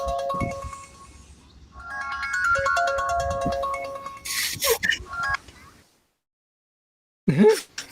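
A melodic phone ringtone from an incoming call plays as a repeating bright tune, fairly loud, then stops; a couple of short sharp sounds follow after a pause.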